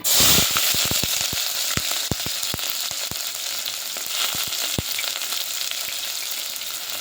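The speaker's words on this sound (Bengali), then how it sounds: "তো তেলটা গরম হয়ে গেছে, আমি এর মধ্যে দিয়ে দিচ্ছি পেঁয়াজ কুচি।" Chopped onions hit hot oil and fry with a loud, dense sizzle, crackling pops and stirring clatter throughout, close up with no talk.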